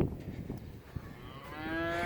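Freshly weaned calves just separated from their mothers moo in a pen, one long drawn-out call rising near the end over background shuffling and faint lowing.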